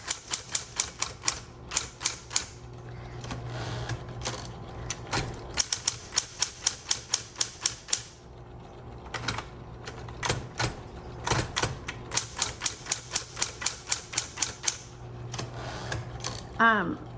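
Keys clack quickly on a Smith Corona Electra 110 electric typewriter, with sharp bursts of strokes broken by short pauses and a motor hum underneath. A carriage return sounds near the end.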